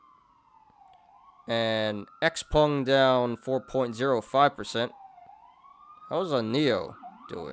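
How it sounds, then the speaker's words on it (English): Emergency vehicle siren wailing outside, rising and falling at a steady level throughout, with someone talking over it for most of its length. "Sorry about the siren, guys."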